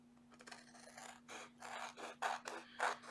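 Scissors snip around the edge of a sealed craft piece in a quiet room, a series of close, soft, rhythmic cutting strokes that grow slightly louder toward the end.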